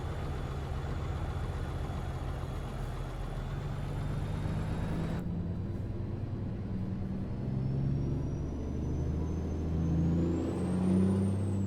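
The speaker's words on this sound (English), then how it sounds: "Beast of a truck." A heavy-haul K200 tri-axle truck engine in the American Truck Simulator game idles with a deep, steady low rumble, joined partway through by a rising whine as the engine revs.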